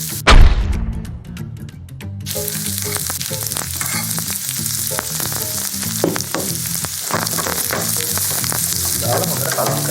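Kottu with leeks and carrot fries and sizzles loudly in a hot pan, with constant crackling and rhythmic scraping and clanking from stirring, close and steady after a sharp opening clatter.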